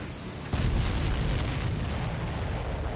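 In the video game Ace Combat 7, a missile strikes a supply ship and sets off a sudden loud explosion, a sharp onset followed by a sustained rumbling roar that slowly fades.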